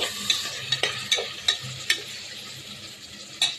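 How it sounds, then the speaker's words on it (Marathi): Peas being stirred as they fry in a pan for a spiced pea rice dish, a soft sizzle running under a series of sharp scraping and tapping strokes of the spoon against the pan, about eight in all. "आणि वाटाणे हलवून घेते"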